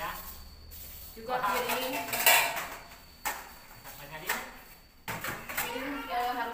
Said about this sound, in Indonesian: piring harus dilap dan disimpan di sini ya